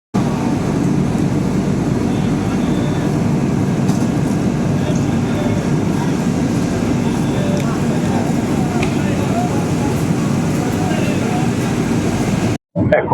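A passenger train heading into Parasnath, Jharkhand, gives a steady, loud rumble and roar of running heard from on board, constant throughout before a sudden brief cut near the end.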